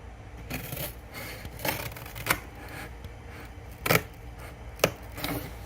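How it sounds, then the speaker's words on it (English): Scissors cutting material while building a box computer, a few sharp separate snips spaced irregularly over quiet, close room tone. "take our scissors once again."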